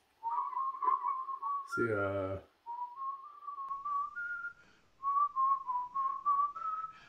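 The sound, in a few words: person whistling during a Warhammer Kill Team game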